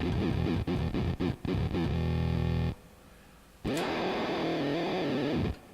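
Palm-muted electric guitar run through an Arcade Machine effects pedal gives chopped, glitchy, chiptune-like bursts, with a sustained buzzing run, a brief gap, then another dense distorted stretch.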